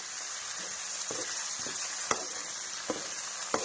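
Green chili and garlic frying in hot refined oil make a continuous soft sizzle, punctuated by a few sharp clicks and taps of a spoon against the pan, with no voices.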